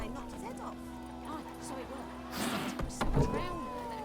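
A cat meows in The Witcher 3 video game, a short voiced call near the end that rises over ambient game sounds and faint background noises.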